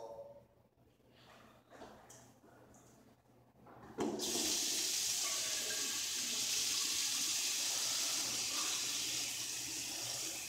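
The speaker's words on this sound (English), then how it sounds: "You have to wash my hands." Water gushes steadily from a tap during handwashing, starting abruptly after a few seconds of quiet and continuing as a loud, even rush to the end.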